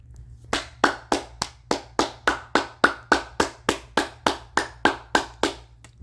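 One person claps about seventeen times in a slow, even rhythm, each clap sharp and close with a short ringing tail, with nothing else in between.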